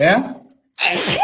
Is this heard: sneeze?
yes